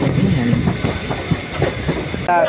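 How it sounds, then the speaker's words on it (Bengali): A train departing a station rumbles along the rails with a steady low roar and rhythmic clatter, loud and close, ending in a brief squeal. "তো এই ট্রেনটা ছাড়ছে"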